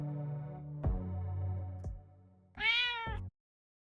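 Cat meowing in a pet video game, two clear close meows, the first a long drawn-out call and the second shorter and higher, followed by silence.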